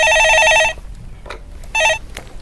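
A telephone rings with an incoming call, two loud electronic bursts of repeated warbling tones, the first lasting most of a second and the second shorter after a pause, with low background noise between.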